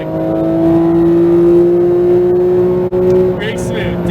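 A Porsche 911 GT3 991.2 accelerating hard on a Las Vegas race track, its engine holding a loud, steady high drone from inside the cabin, with an instructor's voice talking over it.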